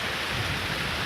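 Heavy rain pours down onto a garden porch and deck in a dense, steady hiss with no break, loud and close.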